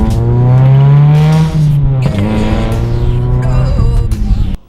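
A Mazda NC Miata fitted with a header and aftermarket exhaust revs loudly up close, holding a rising drone before dropping off and settling into a rough, burbling idle.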